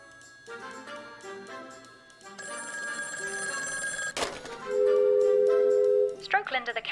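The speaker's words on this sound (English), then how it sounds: "Next chain, the phone is ringing." In the Taskmaster VR video game, a telephone rings amid a mix of electronic game tones and chimes, with a sharp hit partway through and a steady sustained tone near the end.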